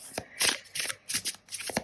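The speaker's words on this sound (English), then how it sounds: "I will shuffle the tarot" Tarot cards being shuffled by hand, a quick series of crisp riffling and slapping bursts in an uneven rhythm, close and fairly quiet, with no talking.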